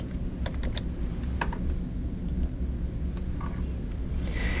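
Keys clatter on a computer keyboard during online registration, a near, irregular run of quick taps in short bursts over a steady background hum, with no talking.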